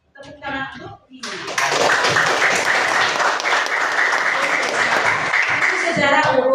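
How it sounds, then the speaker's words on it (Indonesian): A classroom of children breaks into loud, sustained applause after a brief spoken line, the dense clapping filling the rest of the clip. "Tepuk tangan untuk ini."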